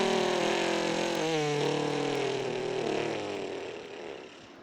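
A car engine runs steadily at a loud, close level, its tone briefly wavering partway through before settling and then fading as the idle drops away near the end, with no voices.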